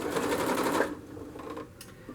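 A sewing machine stitches piping onto a cushion, giving a close, loud rapid whirr for under a second that stops, followed by soft handling clicks and rustles.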